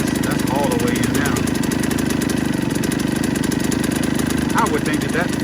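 A 2000 Suzuki RM 125 two-stroke dirt bike idles loud and close at a fast, steady rate, its buzzing note constant throughout while someone talks briefly over it.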